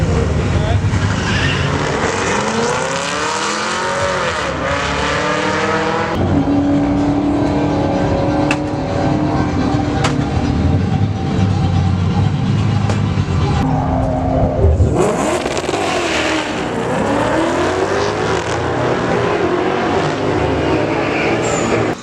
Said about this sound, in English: I hope you guys liked seeing all those cars getting raced and stuff